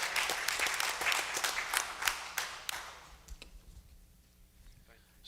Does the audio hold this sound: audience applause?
yes